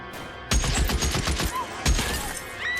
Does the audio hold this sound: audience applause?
no